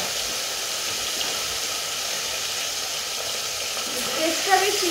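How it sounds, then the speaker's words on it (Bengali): Fish heads frying in hot oil give a steady, loud sizzle with a hissing wash, and a few louder crackles and pops near the end. "আমার মাছে আমি মাছ দিলে কখন যে ফুটুস ফাটুস ভাজতে থাকে"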